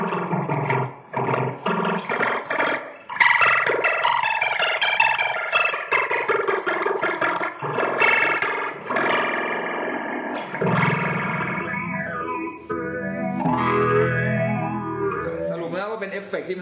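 A heavily distorted, buzzing Boss PH-3 effects pedal tone at full setting, warbling and roaring with a robotic, gritty edge, loud and continuous throughout.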